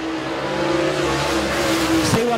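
Warrior dirt late model race car with a Clemens racing engine roaring through a qualifying lap at Tri County Racetrack, a loud sustained engine drone with pitch shifting and a brief sweep near the end.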